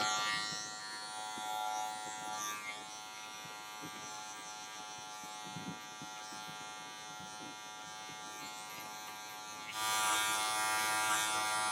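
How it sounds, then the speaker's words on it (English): Electric clippers buzz steadily through a short buzz cut on a model's hair, a close continuous drone that swells louder near the end. "first you get rid of a lot of hair, and then you do the close shave"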